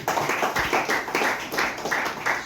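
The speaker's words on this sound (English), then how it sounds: "Please, a big round of applause for him." An audience at a Nigerian national honorary award and swearing-in ceremony claps in quick, uneven bursts, a small crowd's applause pulsing in waves for a couple of seconds, fairly close.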